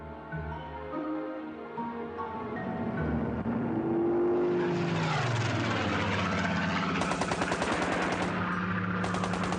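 WWII Spitfire and Messerschmitt 109 fighters in aerial combat, a loud rising propeller engine roar swelling into rapid bursts of machine-gun fire that rattle repeatedly over the droning engines.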